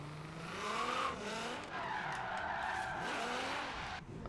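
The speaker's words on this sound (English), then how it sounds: "We're going to drift it here" A car drifting across a tarmac parking lot in Forza Horizon 3, its engine wailing through rising and falling revs while the tires skid and squeal continuously at a moderate level.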